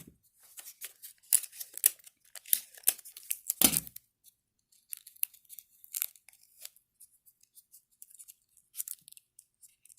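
Adhesive tape is ripped and pressed onto a cardboard box while a catapult is built, giving repeated close crinkly tearing bursts, one long loud rip, then softer scattered rustles and taps.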